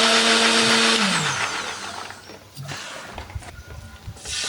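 A kitchen blender grinds shallots, candlenuts and turmeric with a little water, a loud whirring motor that starts high, drops in pitch as it bogs into the paste, then surges and churns unevenly in short bursts.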